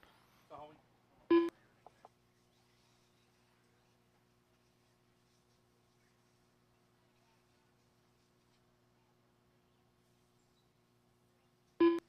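An RC raceway's electronic race timer gives two short, loud beeps about ten seconds apart, separated by near silence, with brief talk early on.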